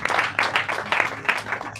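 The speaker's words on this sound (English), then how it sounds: "Another heavy hand clap for the President of the Senate." An audience at a school reunion claps for the President of the Senate, a short burst of dense hand clapping with a few sharper individual claps, fairly close and loud.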